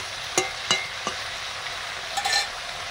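Small mourola fish dropped into a hot pan of vegetable chochchori, giving a few sharp plops and stirring scrapes over a soft, steady sizzle, close up with no talk.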